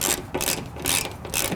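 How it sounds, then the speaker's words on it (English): A ratchet wrench tightens bolts on a vehicle fuel pump during replacement, three quick, close bursts of rapid clicking in an even rhythm, with no talking. "install our bolts and then tighten them down to the manufacturer's torque specification"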